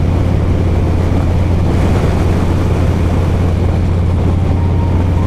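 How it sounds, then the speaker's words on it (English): Outdoor wind buffets the microphone in a continuous low, rumbling roar, loud and steady with no voices over it. "I hope that wind noise"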